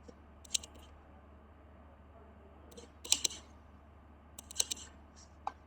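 Sharp computer mouse clicks come in small clusters of two or three, close and crisp over a quiet room hum.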